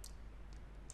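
Computer mouse clicks sound as a few short, sharp taps, one at the start, a softer double near the middle and another at the end, over a quiet room.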